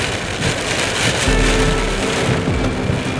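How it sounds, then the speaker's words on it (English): Heavy morning rainstorm at the EAA AirVenture Oshkosh airshow grounds, a loud, dense roar of rain with low rumbling underneath, steady throughout with no talk. "That's the Saturday morning storm."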